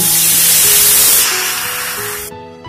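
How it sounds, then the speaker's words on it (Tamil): Loud, steady sizzling hiss of a tumbler of water poured into a hot pan for egg curry, close by, fading slightly before cutting off abruptly near the end. "இதுல 1 டம்ளர் தண்ணி ஊற்றுங்க."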